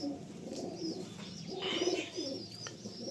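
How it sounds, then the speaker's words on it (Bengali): A chatiyal pigeon cooing in a loft, soft repeated low coos with a few brighter chirps, fairly close and unaccompanied by talk. "আর পিছনে তো ওই চটিয়াল পায়রাটা রয়েছেই, ওইদিকে ঘর বলে ওইদিকেই যাওয়ার চেষ্টা করছে।"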